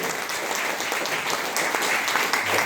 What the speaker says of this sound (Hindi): विक्रांत सर जी के लिए जोरदार हाथ ताली दीजिए।